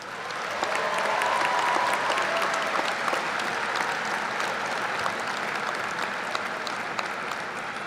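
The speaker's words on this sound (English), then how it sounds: "Graduates, why don't you give your family and friends a round of applause?" Graduates applaud their family and friends at a 2026 University of Dayton commencement, steady sustained clapping from a large crowd filling a big hall, even and continuous throughout.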